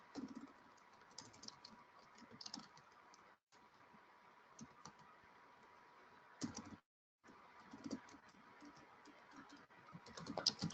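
Steady keystrokes on a computer keyboard while a message is typed, a quiet, continuous run of clicks with brief pauses between bursts, no voices.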